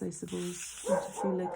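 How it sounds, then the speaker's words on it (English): A dog barks a few short times in the background, fairly faint, while a person talks quietly nearby indoors. "sorry about the barking"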